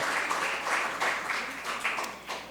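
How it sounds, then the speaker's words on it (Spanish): Applause from a church congregation during a sermon, a steady wash of clapping with a few louder swells, fairly close and continuous through the short stretch. "un fuerte aplauso a estos hombres"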